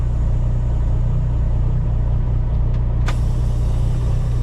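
A custom Peterbilt truck with straight pipes idling nearby, a loud steady diesel rumble like an old 8V92, with a brief hiss near the end, no talking.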